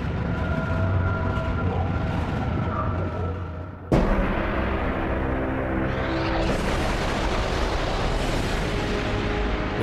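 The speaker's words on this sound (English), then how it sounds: "they make a supernova explosion so big, scientists call them hypernovas." A supernova explosion rendered as a sound effect: a steady deep roaring rumble, loud throughout, broken by a sudden boom that swells into a bigger, brighter roar.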